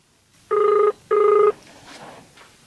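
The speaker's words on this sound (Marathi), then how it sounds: "नाऱ्याला फोनच लावतो आता." A telephone rings twice on a dialed call, two steady bright electronic bursts about half a second each with a short gap, loud and close, followed by quiet room noise.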